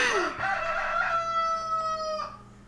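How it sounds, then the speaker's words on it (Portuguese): A rooster crows once, a loud, close cock-a-doodle-doo with a rising opening and a long drawn-out tonal call that fades at the end, heard alone. "O galo cantou."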